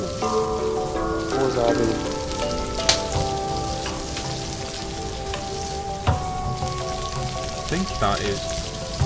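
Food sizzles steadily while cooking over a fire in an island survival video game, a continuous crackling hiss under a brief spoken exchange.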